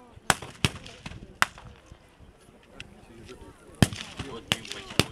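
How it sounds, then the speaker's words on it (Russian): Sharp rifle shots crack out at a battle reenactment of Austrian border guards firing, about a dozen sharp reports in irregular bursts at mid distance, with a clustered volley early and another near the end. "В ответ раздаются винтовочные выстрелы австрийских пограничников."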